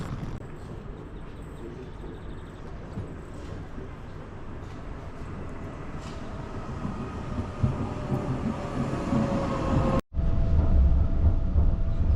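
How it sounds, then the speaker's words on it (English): A Swiss passenger train heads toward Kandersteg, its steady low rumble and rolling rail noise filling the carriage from inside, with a faint rising whine and a brief dropout near the end. "So we are on our 3rd train to Kandersteg."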